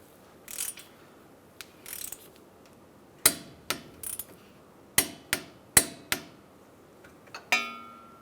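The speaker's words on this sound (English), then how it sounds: "I'm going to back up the nut side with a wrench, and we'll torque it down" A wrench tightens the ball joint pinch bolt nut on a 2007-2015 Mazda CX-9 suspension knuckle, giving a string of sharp metallic clicks and clanks, close and fairly loud, with a final ringing clink.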